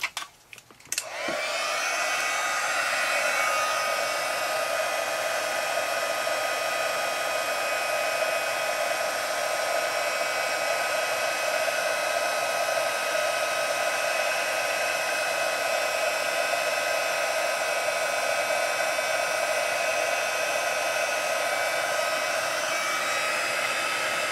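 A heat tool blasts hot air to melt embossing powder on a papercraft piece, starting with a few clicks and then a loud, steady, unbroken whooshing hum that holds for more than twenty seconds.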